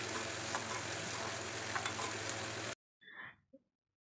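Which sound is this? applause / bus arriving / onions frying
onions frying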